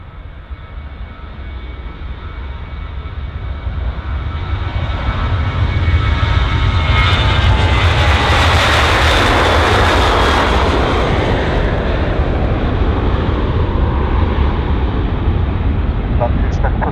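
A jet airliner takes off from runway 27 at Bristol Airport, its engine roar building from a distant rumble to a loud, broad sustained thunder that holds steady as it climbs away.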